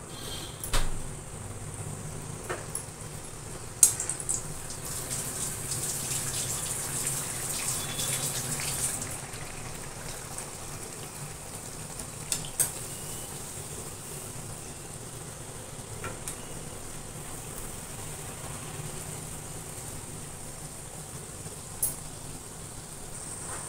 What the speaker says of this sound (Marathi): हे बघा, हे बघा, आता आपण तळून घेऊया।